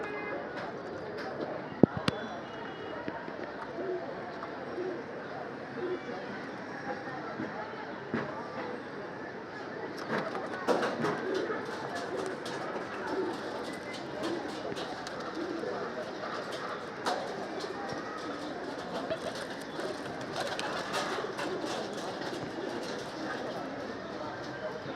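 Pigeons at the Sky Pigeon Loft give soft, repeated coos under a steady rustle of birds. A few sharp knocks break in, and people talk nearby now and then.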